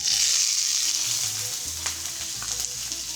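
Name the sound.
chopped onion frying in olive oil in cast iron pan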